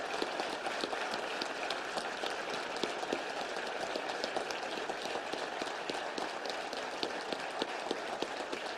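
A crowd at a union rally applauds and cheers at length, steady dense clapping that fills the whole stretch at an even, moderately distant level.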